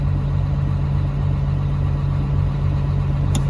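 A Cat D7R bulldozer engine at high idle, a loud, steady low-pitched hum with a constant drone and no change in speed, close by and alone.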